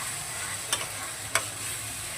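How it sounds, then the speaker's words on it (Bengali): Spice paste and a little water being stirred in a frying pan for a Bengali fish curry, a steady low sizzle with two sharp scrapes of the spoon against the pan, close and alone with no talking. "এবার এই মশলার বাটিটা দিয়ে অল্প একটু জল দিয়ে দিলাম। দেওয়ার পরে আবারও একটু নেড়ে নেব।"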